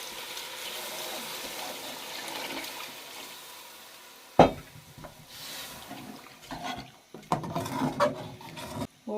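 Water poured into a cooking pot for fish head yakhni, a soft splashing gush that swells and breaks off into clinks and irregular sloshing from the pot and kitchen, fairly quiet overall.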